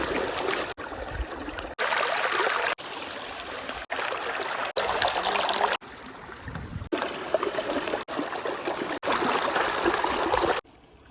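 Water flows through an open valve, a steady rushing gurgle heard in several short segments separated by abrupt cuts, moderately loud and close with no voices.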